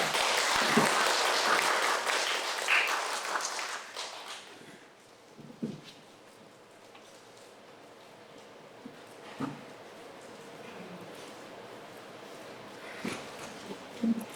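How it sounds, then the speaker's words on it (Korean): Audience applause in a hall at a university social welfare internship presentation event, a dense burst of clapping at the start that fades out within about four seconds, leaving quiet room tone with a few faint knocks. "큰 박수로 환영해 주시길 바랍니다"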